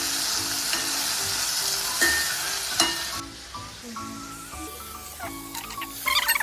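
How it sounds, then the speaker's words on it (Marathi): Round slices of ridge gourd sauté in hot oil over a cumin and mustard seed tempering with a little turmeric: a close, busy sizzle with spatula scrapes and stirring, then lighter pan clinks and spattering toward the end. "हे असे गोल गोल कापलेले गिलकी मी त्याच्यामध्ये टाकणार"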